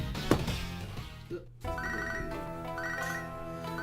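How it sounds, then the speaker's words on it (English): Ringtone-style phone ring from the Pokémon Soul Silver video game, a bright repeating electronic chime pattern over background game music, loud and close with no talking. "What an inappropriate time to get a phone call."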